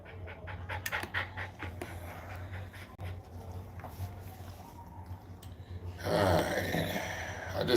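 A dog pants rapidly and rhythmically up close, short quick breaths repeating throughout, with a louder burst of heavier panting and movement near the end.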